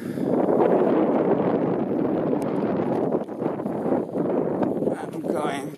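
Strong, steady wind roars and buffets the microphone at the rim of a crater about half a mile across in Idaho's Crater Rings, a dense continuous rush with slight dips in strength.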